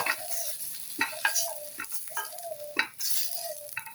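Eggplant pieces fry in hot oil in a wok with a steady bright sizzle, broken by rhythmic scraping strokes of a spatula against the metal as they are turned and lifted out. No one talks.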